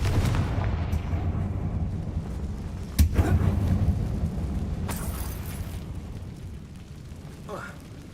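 The Confringo fire spell bursts as a sharp blast about three seconds in during Hogwarts Legacy gameplay, followed by a rumbling tail under game ambience, with a voice talking.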